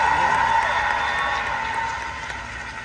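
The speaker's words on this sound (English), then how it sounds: "How about another huge round of applause for them with a little handkerchief?" A crowd at the D23 Expo applauds and cheers for a band, a steady wash of clapping that gradually fades, with a few sharp claps standing out.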